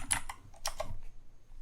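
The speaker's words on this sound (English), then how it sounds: "You get to hear my keyboard" Typing on a computer keyboard, a handful of crisp key clicks in an irregular quick rhythm, close and moderately loud with no voices.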